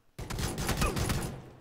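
Rapid PUBG gunfire, a dense burst of close, loud shots running for about a second before trailing off, with no talk over it.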